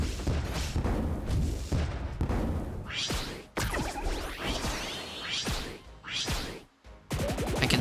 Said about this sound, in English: Play this guy to trigger the cannon.